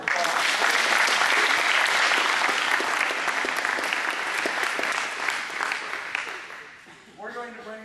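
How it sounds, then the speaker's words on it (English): Audience at an after-prom hypnotist show clapping loudly and steadily for several seconds before the applause fades out and a voice begins. "Give everybody a big round of applause."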